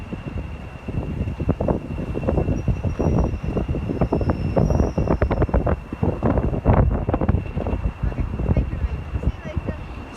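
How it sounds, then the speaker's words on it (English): A train rumbles and clatters steadily at a station, a constant high whine above it, with wind buffeting the microphone and voices in the background. "there's a train in"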